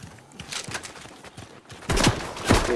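Gunshots in the video game Fortnite, a rapid series of sharp close cracks that thicken into a louder, denser volley toward the end.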